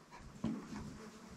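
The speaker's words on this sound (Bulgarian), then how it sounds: "Това е овчарска куче." A shepherd dog pants softly with a brief whimper partway through, faint and close, with no one talking.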